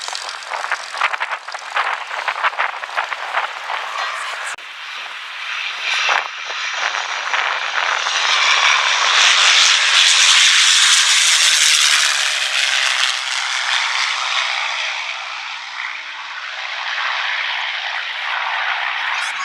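A P-51 Mustang propeller plane engine roars at an airshow in the Hunter Valley, New South Wales, swelling louder as it passes close overhead, then fading slightly, with rattling noise early on.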